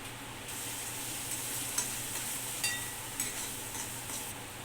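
Turmeric, cumin and coriander powder being stirred into a pan for onion papad chutney, a steady soft scraping and low sizzle with a few light clinks, close and continuous.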